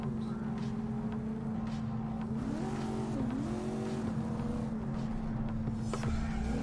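Sports car engine in the video game Cyberpunk: a steady droning motor hum with rising and falling revs and brief tire-like squeals, moderately quiet and continuous.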